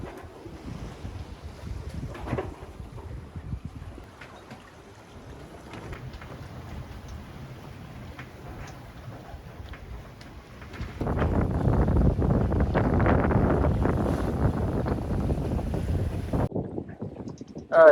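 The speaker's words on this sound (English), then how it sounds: "we got our weather window and started sailing back towards Muskegon" A sailboat under way on the lake between South Manitou and Muskegon, with steady wind buffeting and water washing along the hull; the rush of wind and waves grows noticeably louder in the second half, with no talking.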